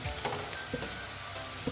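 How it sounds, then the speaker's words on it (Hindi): Whole garam masala spices fry with ginger paste in a pan for garlic rice, giving a steady low sizzle broken by a few soft stirring knocks, close up, with no talking. "तो अब इस पॉइंट में मैं इसमें गरम मसाले डालूंगी तमाम, इनकी भी हल्की सी भुनाई होगी इसके साथ।"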